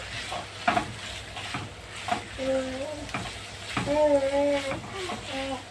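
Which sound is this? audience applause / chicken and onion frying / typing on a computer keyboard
chicken and onion frying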